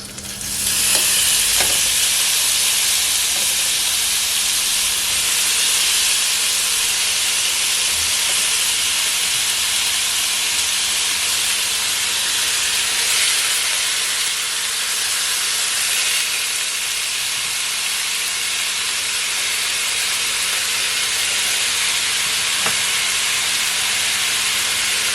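Beef frying in olive oil in a pan over medium to high heat, a loud, continuous sizzle and hiss that holds steady throughout with only slight swells.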